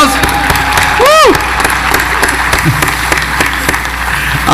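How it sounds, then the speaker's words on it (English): Audience at a business gathering applauds and cheers, with a whistled whoop rising over steady clapping near the start, then continuing dense applause mixed with crowd voices throughout. "Can we give him a round of applause?"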